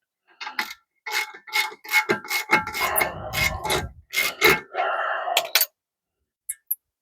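A 13 mm ratchet wrench works brake caliper bolts loose on a vehicle, giving close, loud bursts of ratcheting clicks and metallic grinding in irregular strokes, then falling quiet apart from a few brief clicks.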